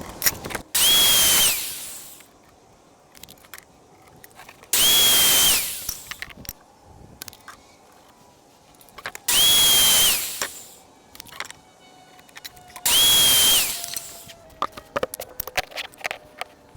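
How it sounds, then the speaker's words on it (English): A power saw cuts wooden boards for a feral cat shelter in four separate bursts, each a loud, close, high whine lasting about a second, with quiet pauses and small handling noises between cuts. "So I'm going to cut the boards 18 1/2 to fit down in here all the way around."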